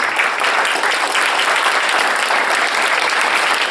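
Steady, dense applause from a large audience for the musicians at the launch of an Ashtavakra Gita music CD, loud and continuous with no voices.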